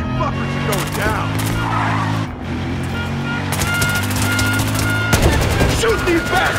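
Rapid automatic gunfire in Battlefield Hardline, sustained machine-gun bursts mixed with vehicle engine noise and overlapping voices, with brief pauses between volleys.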